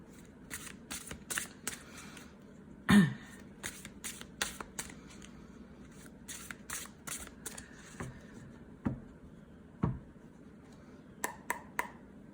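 Tarot cards being shuffled by hand, a series of crisp riffling bursts and soft slaps as the cards land on one another, close and clear in a quiet room.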